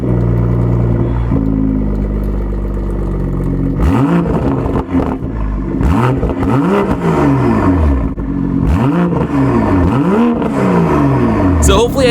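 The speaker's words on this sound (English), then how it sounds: "you guys can hear the Supra turn on, and we might give it a few baby revs as well" A Toyota Supra engine cranks and starts, then idles with several sharp revs that rise and fall in quick succession, loud and close throughout.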